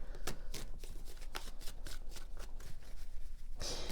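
Worn, raggedy tarot cards are shuffled by hand close up, a continuous series of soft riffling flicks and papery slaps.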